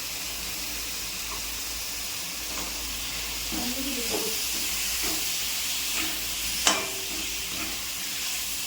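Prawns fry in a masala mixture in a village kitchen pan, giving a soft, steady sizzle with occasional stirring scrapes and one sharp clink near the end.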